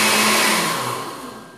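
A kitchen blender whirs loudly, chopping rolled oat flakes for a diet oat and banana cake batter, the motor tone steady then gradually winding down near the end, with no talking.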